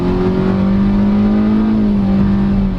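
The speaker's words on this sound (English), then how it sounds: "I'll leave it in Sport because I noticed the CVT transmission is really responsive, like here." A 2023 Hyundai Stargazer GLS with a CVT (IVT) transmission accelerates in Sport mode, its engine holding a loud, steady droning note that rises slightly in pitch with no pauses.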